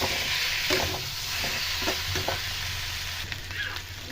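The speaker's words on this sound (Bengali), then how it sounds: "এই যে ভেজে রাখা আলু সেটা দিয়ে দেবো। দিয়ে ভালো করে কষিয়ে নেব।" Fried potatoes are stirred into a sizzling spice masala for a vegetarian papad dalna. A steady close frying hiss runs throughout, broken by repeated scraping stirs of a spoon in the pan, with no talking.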